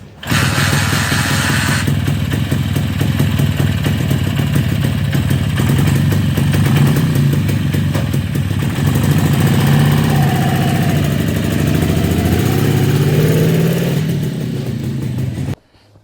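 A restored DKW KS-200 motorcycle engine runs steadily nearby on its first ride, a loud, continuous two-stroke drone with mild shifts in pitch that stays even for about fifteen seconds before cutting off.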